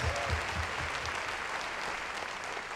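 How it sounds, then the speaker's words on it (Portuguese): Applause from a church congregation during a Portuguese-English service, a dense, steady wash of clapping that holds at an even level throughout, with no one speaking over it. "Let's give Jesus a hand of praise."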